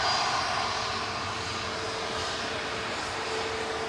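A jet airliner touching down at Manchester Airport, heard as a steady, loud broadband engine roar that holds evenly throughout, with no talking.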